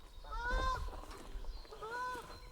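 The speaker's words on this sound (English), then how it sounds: "Canadian geese" Canada geese honk nearby in a garden, two bursts of several harsh, nasal calls about a second apart, moderately loud over low background rumble.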